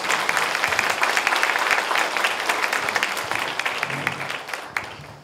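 A room of lecture attendees claps together in a sustained burst of dense applause that gradually thins and fades toward the end, with a faint voice near the close.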